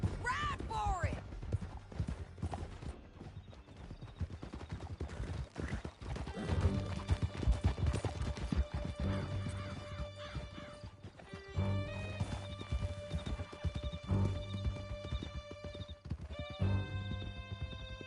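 Galloping horses from Red Dead Redemption 2 pound out rapid, close clip-clop hoofbeats throughout, with whinnies and a swelling music score layered over the ride, and a voice calling out early on.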